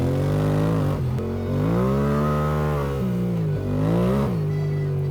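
Motorcycle with a 17-inch front wheel revving hard outdoors at a woodland campsite, a steady close engine drone rising and falling in pitch through several throttle blips with no talk.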